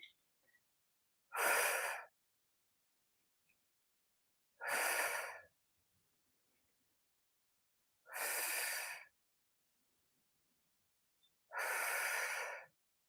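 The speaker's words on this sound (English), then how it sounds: "Take a breath in. As we exhale," Four slow, even breaths during a resistance band exercise, each a long, smooth exhale spaced roughly three seconds apart, close and clear with silence between them.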